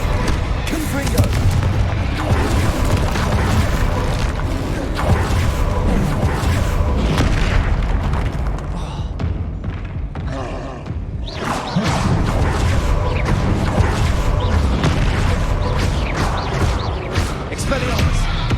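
Blasting Confringo spell explosions in the video game Hogwarts Legacy, loud booms and crashes piling into a dense, continuous battle roar with a brief lull midway, voices heard among the blasts.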